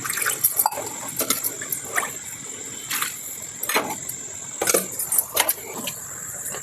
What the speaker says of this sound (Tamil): இது கூட தண்ணி கொஞ்சம் ஆட் பண்ணிக்கலாம் ஃப்ரெண்ட்ஸ்.